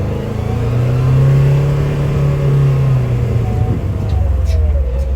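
A 2024 Polaris Expedition XP Ultimate UTV drives along with a loud, close engine drone that rises and eases as it moves, a steady mechanical hum throughout.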